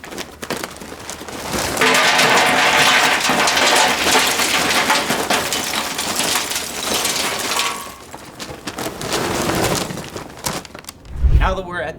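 Charcoal pours into a Pit Boss grill fire pot as a dense, loud rattling cascade of clinking lumps lasting several seconds, then quieter shuffling and a final thud, with a voice speaking alongside.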